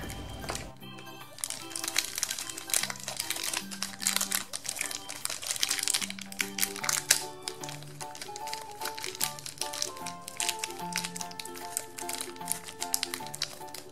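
Plastic packaging crinkling and crackling in irregular bursts as a small toy pouch from a Dora the Explorer toy backpack set is torn open by hand, close and moderately loud, with background music underneath.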